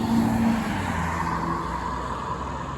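Road traffic near a cemetery, a steady wash of passing car noise with tire roar, continuous and moderately loud throughout, no one speaking.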